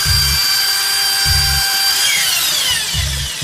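A power drill bores into a suspect parcel at close range, its high whine holding steady, then rising and sliding in pitch as it bites, while a low pulsing hum thumps underneath at regular intervals.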